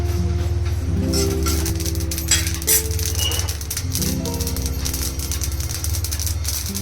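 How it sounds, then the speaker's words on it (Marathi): Sesame seeds roasting in a pan, giving a steady dry rattle with light clinking crackles throughout, over a sustained tonal background hum. "टाकूयात तीळ तीळ पण आपण भाजून घेऊया"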